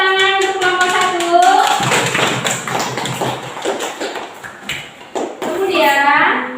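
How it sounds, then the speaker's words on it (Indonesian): Classroom applause for a student group after their presentation, a dense wash of clapping hands with children's voices talking over it throughout. "Tepuk tangan untuk kelompok 1."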